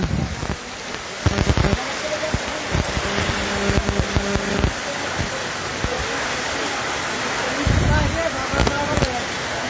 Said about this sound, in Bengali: বৃষ্টির তীব্রতা বাতাসের গতি